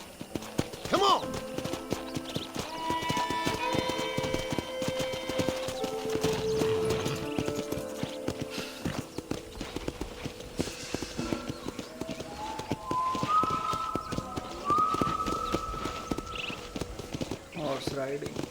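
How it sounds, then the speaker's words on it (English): Galloping horse hooves drum on in Red Dead Redemption during a ranch ride, a continuous rhythmic clatter under a game music bed and faint voices. "Horse riding."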